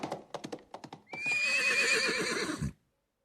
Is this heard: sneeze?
no